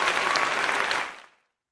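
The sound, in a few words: applause sound effect played from a button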